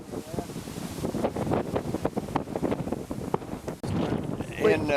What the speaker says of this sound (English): the way the Kansas wind is blowing today